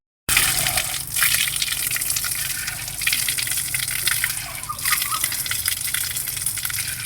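Water gushes steadily from a tap while someone washes their face outdoors after a walk, a loud continuous splashing flow that starts abruptly and runs on without talk.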